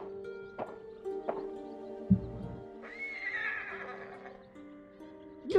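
A horse whinnies clearly partway through in the video game Ghost of Tsushima, preceded by a few short thumps and a low hum, with a steady tonal background throughout.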